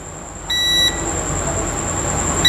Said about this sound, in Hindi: देखिए यहाँ पर बीप आ रहा है